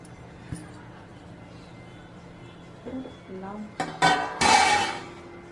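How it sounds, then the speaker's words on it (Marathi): Peanut and sesame being stirred into jaggery syrup in a pan for til-gud sweets, with scraping and metallic clinks of a spoon against the pan building up near the end, alongside a voice speaking. "आणि आता हे मी गुळाच्या पाकामध्ये टाकत आहे."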